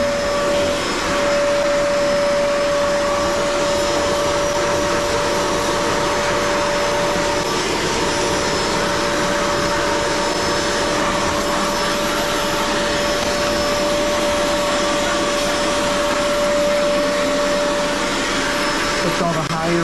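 An Auric vacuum cleaner drones steadily while cleaning an Airstar 22 unit, a loud continuous whine with a constant high tone and no break throughout.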